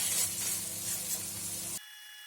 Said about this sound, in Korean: 고기를 넣고 중약불에서 다크 브라운 컬러가 될 때까지 익혀줍니다.